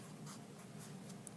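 A pen or pencil writes a word on paper, giving a steady, close scratching texture with a few brief stroke accents, heard alone without talk.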